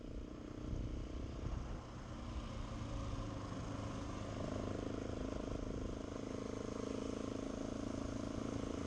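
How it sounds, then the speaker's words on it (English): KTM 690 Enduro R motorcycle running on cruise control at about 28 mph up a slight hill, its single-cylinder engine giving a steady, continuous drone with the revs rising a little, heard close and alone. "And you can hear the engine RPMs increase to keep the speed consistent."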